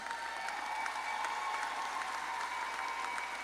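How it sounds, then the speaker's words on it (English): A graduation ceremony crowd at Elmore Stoutt High School applauds ten top graduating students as they stand to be recognized: steady, dense clapping that fills the hall from start to finish without a break. "Give them a round of applause"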